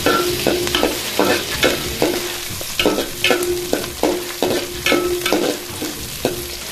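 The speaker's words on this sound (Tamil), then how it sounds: "வெங்காயம் ஒரு கைப்பிடி அளவுங்க நாலு வரமிளகாய் நல்லா வதக்கிடுங்க" Onions and dried red chillies fry in hot oil for an egg kulambu, a steady loud sizzle broken by regular, rhythmic spatula scrapes roughly every half second, with no voices.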